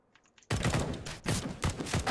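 Burst of Counter-Strike: Global Offensive gunfire in a match near a Molotov fire, loud rapid shots firing continuously after a brief quiet start, with a short gap partway through.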